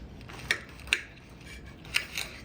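A knife and fork cut into a homemade calzone baked with slow-roasted pork, giving a few sharp, close scraping clicks spaced apart over a soft low background hum.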